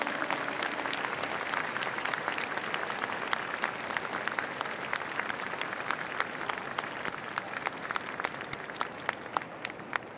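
Audience applause at the Aomori night event of a Tokyo hometown festival honoring a nebuta float, broad sustained clapping from a large crowd heard from some distance, steady for ten seconds.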